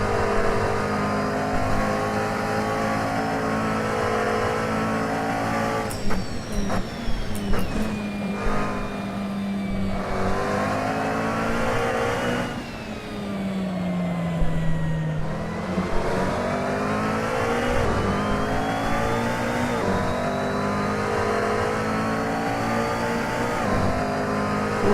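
A McLaren GT3 race car engine in a racing sim at Silverstone GP, droning steadily with rising and falling revs through gear changes, loud and continuous, with faint clicks in the middle stretch.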